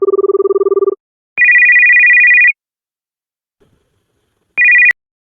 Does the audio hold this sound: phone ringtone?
yes